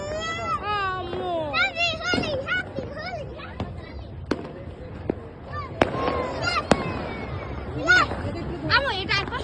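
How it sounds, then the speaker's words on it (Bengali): Fireworks and firecrackers burst on rooftops on New Year's Eve, with whistling rockets and sharp bangs popping repeatedly at a moderate distance while children talk and shout excitedly nearby. "সবাই তো ছাদে বাজি ফুটাচ্ছে"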